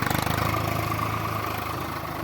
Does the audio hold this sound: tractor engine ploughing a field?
yes